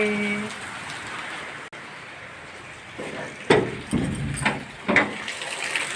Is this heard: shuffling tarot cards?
no